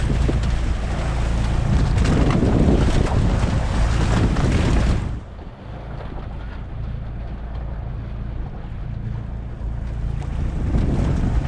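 A loaded boat pounds through rough sea waves, a loud, steady roar of engine, water and wind buffeting the microphone, easing to a lower churning rush about halfway through.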